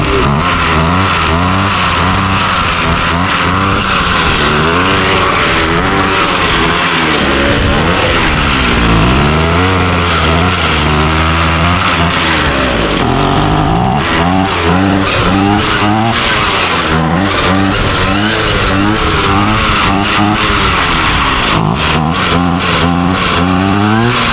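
Gas string trimmer engine running after a cold start, a loud, close two-stroke buzz that rises and falls repeatedly as the throttle is worked, with some rough, uneven patches.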